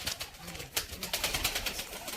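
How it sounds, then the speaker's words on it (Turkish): Pigeons cooing at a farm, soft repeated low coos with some wing and rustling sounds, fairly close, with faint voices of children and adults in the background. "Çocuklar burada güvercinler var."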